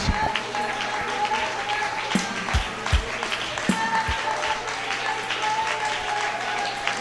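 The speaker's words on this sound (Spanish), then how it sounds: "yo le invito para que le des un aplauso con todo tu corazón, con toda tu alma, con todas tus fuerzas" Church congregation applauding during a Pentecostal service, steady dense clapping that fills the whole stretch with a few sharper claps standing out, a low hum underneath and faint voices mixed in.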